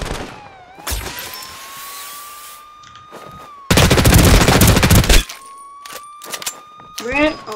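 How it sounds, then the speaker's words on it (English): Gunfire in the video game Ring of Elysium: sharp isolated shots and a dense burst of rapid automatic fire midway, loud and close, with a player talking between the shots. "He's trying to shoot at me."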